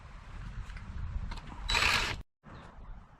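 Screws on a lawn mower motor housing are tightened by hand tool, a quiet ratcheting clicking with a brief louder burst of rasping before a short pause and more clicks, close by.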